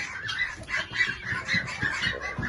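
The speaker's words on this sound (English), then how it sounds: "Here's the ducks." Farm fowl, likely ducks near water, call in a steady run of repeated squawking, quacking cries, fairly close and moderately loud against outdoor background noise.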